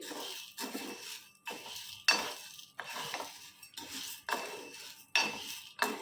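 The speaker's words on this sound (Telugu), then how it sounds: "ఇలా మీడియం ఫ్లేమ్లో పెట్టేసి వేపుకుందామండి" Toor dal being dry-roasted on medium flame in a metal pan, with a spoon scraping and stirring in steady repeated strokes, bright rattling grains and clinks against the pan, close and clear, no voices.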